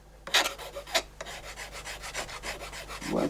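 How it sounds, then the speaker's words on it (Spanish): A fine-grain file rasps across the handle of a knife forged from an old farm sickle: a close, steady series of about eight scraping strokes in an even rhythm, with no voices. "da el repaso final al mango con una lima de grano fino o con una lija"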